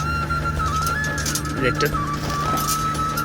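A king quail calls with soft, repeated cooing notes while a person talks over it, and a steady background hum runs throughout.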